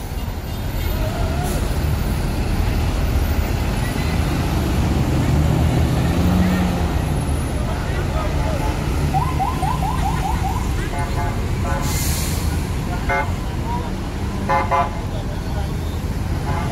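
Buses pulling away in convoy at a busy terminal during the peak post-holiday return rush, a steady broad engine and traffic rumble with horn toots and beeps breaking through, people talking throughout.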